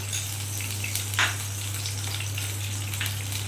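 Oil sizzling steadily in a pan while frying for a Bengali begun ilish (hilsa with eggplant) dish, a continuous close hiss with small crackles and a low steady hum underneath, no talking.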